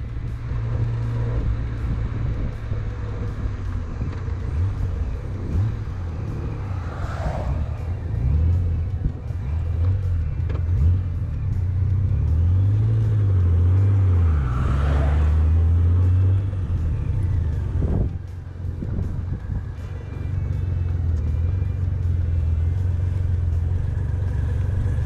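A 1996 Honda GoldWing GL1500 SE motorcycle rumbles steadily while riding toward a gas station, a low continuous engine drone with gentle pitch rises and falls and brief wind bursts.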